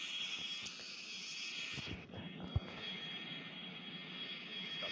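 An airliner taxiing along a runway in the Airline Commander flight game: a steady, faint jet engine whine with a low rumble throughout, plus a single soft thump partway through.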